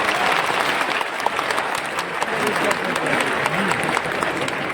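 Audience applause at a festival event in Patna, a dense, sustained clapping from a crowd that holds steady and fairly loud for about five seconds, with no individual voices standing out.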